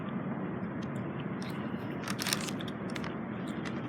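Crunching bites into the hard crust of a Langer's #19 pastrami sandwich with Russian dressing, a few close crackly crunches in the second half over a steady background hiss.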